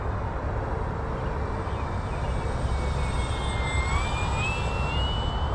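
An FMS 1400mm F4U Corsair RC plane flies an approach at half throttle, a steady electric motor whine with a rising, shifting pitch as it passes, set against constant outdoor wind noise.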